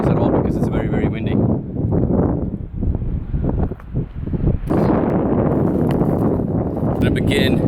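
Strong outdoor wind buffets the microphone in heavy, rumbling gusts that dip briefly and return, with someone talking faintly beneath the roar.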